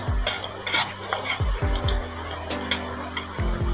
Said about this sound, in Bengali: দেখো জিরা ফোড়ন দিলাম একটা শুকলা লঙ্কা ফোড়ন দেব আর দুটা তেজপাতা